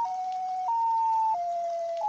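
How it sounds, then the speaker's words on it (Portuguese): An ambulance siren in an RPG Maker horror game alternates between two pitches in a steady electronic wail, loud and alone. "Ah, uma ambulância?"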